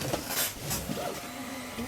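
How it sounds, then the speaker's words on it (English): A 3D printer printing a clock panel, with soft whirring stepper-motor tones and small mechanical ticks and swishes, close and fairly quiet, with no voices. "We're really just waiting on the printer."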